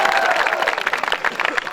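An audience at a night-time Hindi poetry recital (kavi sammelan) claps, a brisk patter of many hands that thins toward the end, fairly loud and close.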